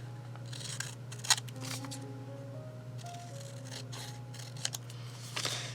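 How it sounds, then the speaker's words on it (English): Scissors snipping through paper while cutting out a figure for a mini postcard junk journal, soft close cuts and rustles over a steady low hum and faint background music, with a sharper snip near the end. "While I'm at it, I'm just going to cut this gal out."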